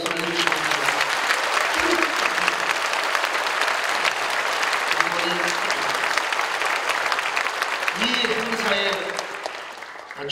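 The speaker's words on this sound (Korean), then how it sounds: "다시 한번 귀한 어르신들을 향하여 오름찬 박수를 해주십니다" A large church congregation gives long, vigorous applause to Korean War veterans at a prayer service, dense clapping throughout that fades near the end, with a voice speaking intermittently over it.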